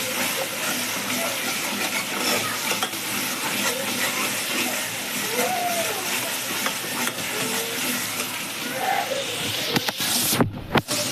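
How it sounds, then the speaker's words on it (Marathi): Pre-roasted ground spicy masala sautés in oil for a Sunday mutton dish. A soft, continuous frying hiss runs throughout with faint stirring, and a few clunks of the utensil come near the end. "तेल सुटेपर्यंत याला परतायचं."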